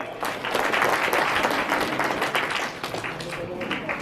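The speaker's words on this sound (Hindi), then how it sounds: "जोरदार तालियां" Audience at a village kavi sammelan poetry gathering in Digrauta breaking into loud, dense applause, a steady burst of many hands clapping close by that rises quickly and stays strong before thinning slightly at the end.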